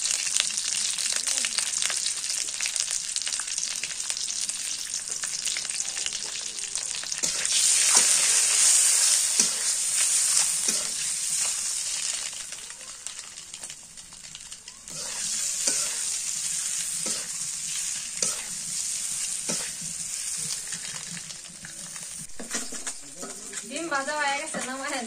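Country duck eggs sizzle as they fry in an oiled pan, with continuous hissing and scraping stirs up close, while a person talks over parts of it.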